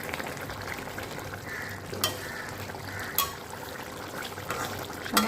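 Paneer curry with water added bubbles and sizzles gently in a pan, a soft continuous frying hiss with occasional small pops and stirring clicks, close and alone.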